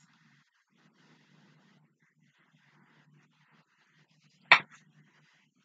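A dog gives a single sharp, loud yelp or bark near the end, after several seconds of near silence and low murmur.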